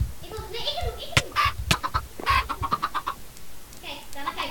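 A chicken clucks in the Minecraft video game during a Skywars match, with short rapid clucks mixed in among background game sounds and a voice talking.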